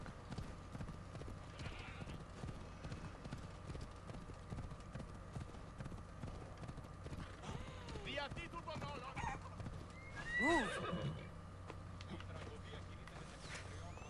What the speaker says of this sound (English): Our horse can handle it.